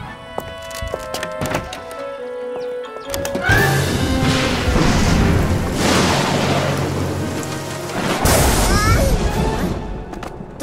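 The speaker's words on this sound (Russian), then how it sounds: "Гром — это всего лишь звук, его не следует бояться." A thunderstorm in a children's cartoon, a long rumbling roar of thunder and rain building after some brief clatter and voices, then swelling again toward the end.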